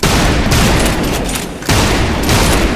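Dense, sustained gunfire from the first-person shooter Trepang2, a continuous roaring volley of shots with a brief dip in the middle before it resumes at full loudness, close and with no talk.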